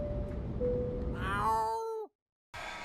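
Cat meowing in a radio advert, a single drawn-out meow with its pitch rising and falling, close and clear against a faint background hum, then a brief cutoff to silence.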